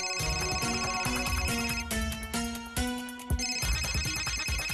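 A phone rings with a melodic electronic ringtone that steps through a series of notes, loud and close with no talk over it.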